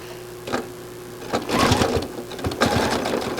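A sewing machine stitches over a small scrap of fabric used as a leader, running in short bursts of rapid mechanical whirring with brief pauses between, close and fairly loud, no voices.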